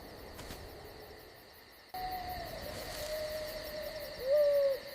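An owl hoots at night with a few soft, drawn-out calls against a steady hum of crickets and insects, moderately distant, with no talking.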